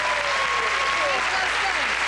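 Studio audience at a talk show clapping in a continuous, even wash of applause throughout, loud and close with no pauses.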